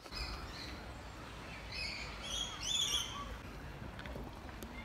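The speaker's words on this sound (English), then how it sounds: "What do you think about the lorikeets?" Several high, sharp lorikeet calls and squawks from a flock at a zoo, moderately distant, over steady background noise with faint voices.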